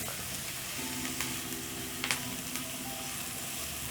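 Spaghetti cooks in a hot pan with a steady, even sizzle that holds throughout, broken by a couple of faint clinks and stirring sounds, and no voices.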